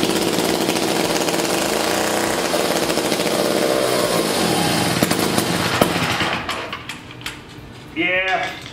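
A 1956 Eclipse Wasp two-stroke chainsaw engine runs loud and steady for about six seconds, then sputters and cuts out, leaving brief irregular pops and a voice speaking near the end.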